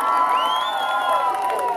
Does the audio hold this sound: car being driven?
no